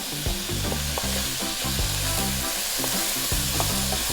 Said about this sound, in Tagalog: So haluin ko lang sandali.